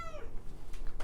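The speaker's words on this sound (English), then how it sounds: "You hear my kitty." A pet cat cries out indoors, agitated by another young cat outside; a single brief, rising-then-falling meow opens the moment, fairly faint against steady room noise.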